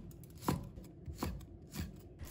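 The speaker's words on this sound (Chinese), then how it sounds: "再把它切成小圈。" A knife slicing small red chili peppers into rings on a cutting board: a few distinct, evenly spaced chopping strikes, close and clear, with no talk.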